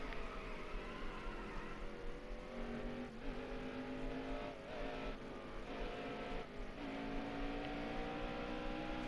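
A race car engine in a racing video game drones steadily at high pitch, with the throttle lifted and reapplied in a few short dips through the turns.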